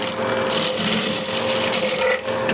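A bowl spins on a wood lathe as a tool rides its bevel to peel off shavings, giving a steady motor hum and a faint tone beneath surges of rough, gushing cutting noise that swell and ease.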